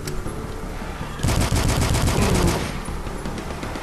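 Rapid automatic fire from an action rifle in the first-person shooter DUSK, a loud burst of repeated cracking shots that starts after a second and rattles on for about two seconds before trailing off.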